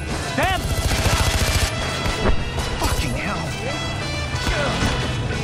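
Rapid gunfire fills a Far Cry 4 game scene, with dense, loud volleys, crashing impacts and chaotic game effects running throughout, under in-game voices.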